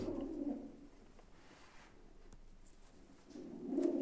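Pigeons coo softly at a live pigeon auction, low murmuring calls swelling at the start and again near the end with quieter stretches between.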